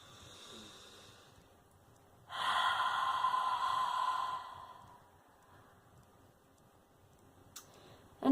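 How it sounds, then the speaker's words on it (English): A single long, deep breath, a soft breathy rush lasting a couple of seconds, heard close and alone in a quiet room, followed by stillness. "Take another deep breath."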